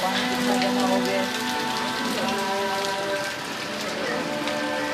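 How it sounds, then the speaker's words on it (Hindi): Heavy rain pours steadily onto a flooded street in Karachi, a dense, continuous hiss of drops splashing into standing water, loud and close throughout. "ये कराची में अपना बारिश की तादाद से सुबह से चालू हुई है, अभी तक बंदी नहीं है"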